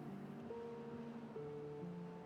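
A game-world waterfall from the beaver colony builder Timberborn, a soft, steady rushing wash with faint tonal music layered over it, no voices.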